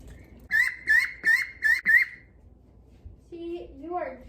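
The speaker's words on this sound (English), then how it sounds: "My duck." A pet duck calling in a home setting, five rapid, evenly spaced nasal calls close to the microphone, followed by a brief softer vocal sound.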